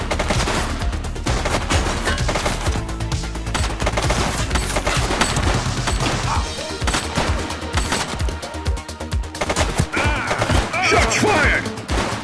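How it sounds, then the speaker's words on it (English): Rapid volleys of gunshots in the police video game The Precinct, dense cracking fire crowding a loud, busy scene, with a voice briefly heard among the shots. "Shots fired!"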